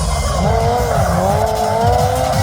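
Car spinning a double 360 at Santa Pod's Bug Jam 2022 show, a loud sustained tire squeal that bends in pitch as it rotates, with engine rumble underneath and no talk.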